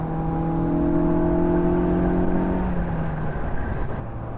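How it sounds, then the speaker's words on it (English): A 1994 Mazda Miata engine revs high on a downshift, a steady loud in-car drone with falling harmonic tones as the revs drop away over several seconds. "And sometimes you downshift just for the sound. And it is happy to rev."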